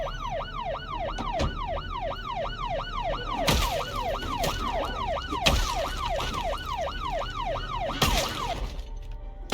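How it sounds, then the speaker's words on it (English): Police car siren in the game Project Zomboid, wailing in a steady rapid up-down yelp pattern, loud and continuous, with occasional sharp impact cracks layered over it. "I even set off my police car siren to attract zombies to me."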